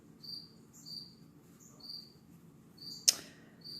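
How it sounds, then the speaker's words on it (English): Crickets chirp indoors in a house in steady repeated trills, faint against a low background hum, with a brief sharp click near the end. "I have crickets as background noise"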